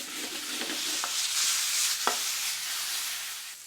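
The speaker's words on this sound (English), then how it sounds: "Next, add the green chili to the pan and mix the ingredients together." Green chili and chopped garlic stir-fry in a hot pan, a continuous bright sizzle broken by a few sharp scraping clicks as the ingredients are stirred.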